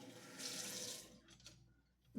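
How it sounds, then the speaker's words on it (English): A household tap runs as water is left to warm up, a soft hissing splash for about a second that fades, followed by quieter faint sounds, with no talk. "so we'll let this water get warmer"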